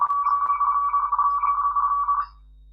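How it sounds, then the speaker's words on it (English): A steady electronic warbling RTTY radioteletype tone rapidly shifting between two close pitches, a continuous amateur radio data signal lasting about two seconds, then stopping abruptly. "That's the sound of RTTY."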